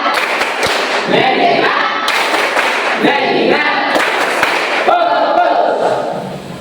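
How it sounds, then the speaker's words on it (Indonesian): A classroom of students performs the tepuk fokus clapping routine, sharp loud group claps in rhythmic bursts alternating with children chanting together. "sekarang kita mau ajari tepuk fokus ya"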